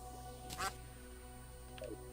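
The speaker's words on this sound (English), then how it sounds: "that's a duck, obviously" A duck quacks in the video game Terraria: a short, loud burst of quacks, then a fainter single call a moment later, over a quiet, steady game background.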